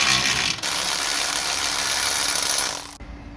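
18 mm socket wrench spinning on a rear shock absorber bolt of a 2018 VW Passat R Line, giving a continuous loud, close mechanical whirr that cuts off abruptly near the end.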